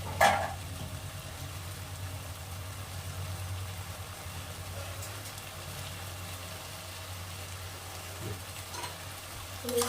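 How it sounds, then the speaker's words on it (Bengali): Fried potatoes stir-fried in a cooked-down spice masala for a cauliflower and egg curry, giving a steady soft sizzle with low rumbling hum throughout and a few faint clinks, no talking. "আলুগুলো দিয়ে নেড়ে চেড়ে নেব"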